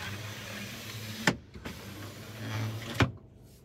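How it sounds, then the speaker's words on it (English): Power rear window of a 2022 Ford Maverick LARIAT pickup whirs quietly at close range. Two sharp clunks mark the window starting and stopping, with a low motor hum running between them and no voices. "switch for the power rear window."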